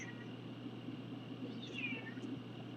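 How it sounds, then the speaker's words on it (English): A house cat screams with a drawn-out rising and falling meow, loud and close over a quiet room hum. "No, my cat's screaming."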